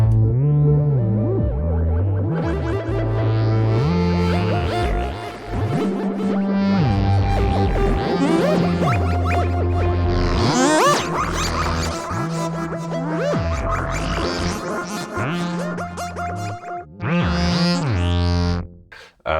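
Electric guitar notes run through a chaotic, glitchy effect and a double filter in Guitar Rig, producing warbling, distorted, sweeping tones that stutter and shift throughout.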